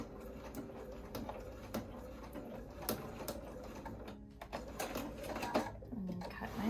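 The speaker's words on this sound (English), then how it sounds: "I want to back stitch" A sewing machine back stitches a tote seam, faint rapid clicking needle strokes in short bursts with brief pauses, quiet and close.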